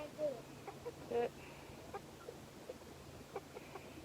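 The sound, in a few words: injured chicken clucking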